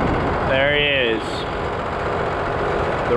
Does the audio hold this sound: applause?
no